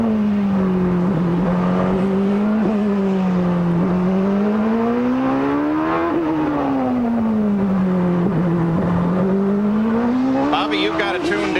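A 1993 IndyCar on the Long Beach street circuit approaching turn 1, its engine down a cylinder with a likely dropped valve, drones loud and rough, pitch rising and falling steadily through the run with a commentator talking over it.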